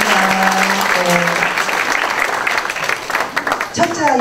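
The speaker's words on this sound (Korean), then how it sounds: "두 번째 아버님들에게 또 격려의 박수 부탁드립니다." Warm, continuous clapping from a gathered audience of parents at a fathers' camp preliminary meeting, with a voice talking over the applause near the start and toward the end.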